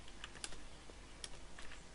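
Router configuration commands typed on a computer keyboard in Cisco Packet Tracer, heard as a few faint, quick keystroke clicks spaced irregularly over quiet room noise.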